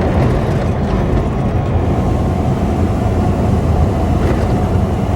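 An RV coasting with the driver's foot off the throttle as the engine brake slows it, a loud, steady low rumble and drone from the engine and road with no breaks.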